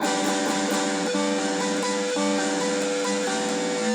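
Shimmering guitar harmonics ring across all the strings at once, a finger laid lightly across them, a dense, steady wash of chiming overtones played through a distorted amp.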